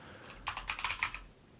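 Typing on a computer keyboard while setting up a Clojure environment in IntelliJ IDEA with Cursive, a short quick burst of several key clicks, close and fairly quiet, with no talk.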